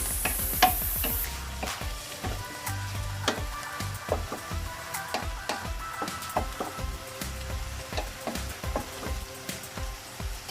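Ilocano igado meat being stirred in a frying pan, with repeated scraping and clacking of the utensil against the pan over a steady sizzle, close and continuous with no talking.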